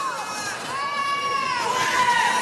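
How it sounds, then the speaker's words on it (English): A large Sunday crowd at the Cuneta Astrodome roars and cheers continuously during a basketball game, with shouts and whistles rising near the end. "We had a great Sunday crowd dito sa Cuneta Astrodome enjoying basketball by the bay."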